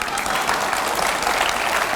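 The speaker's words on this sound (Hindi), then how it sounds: "अब यहां पर जो तालियां बज रही हैं" A seated audience at a political talk applauds in a dense, even wash of clapping that runs steadily from start to finish, with no voices over it.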